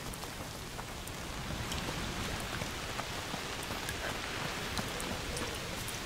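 Steady rain in the video game A Plague Tale: Requiem falls as a dense, continuous hiss with scattered drop patters and no voices.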